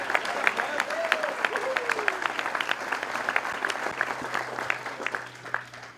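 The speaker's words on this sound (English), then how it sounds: "Yeah, we can clap for that." A school audience applauding at the opening of the 2025 Holderness School Prize Day commencement ceremony, dense sustained clapping from a large crowd that gradually thins out toward the end.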